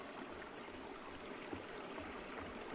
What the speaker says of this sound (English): We're turning on the blood water.